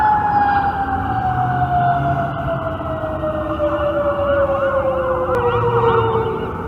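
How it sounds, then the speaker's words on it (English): Emergency vehicle siren passing by, loud and wailing with a falling pitch as it moves away, over steady traffic rumble. "wait till the siren passes."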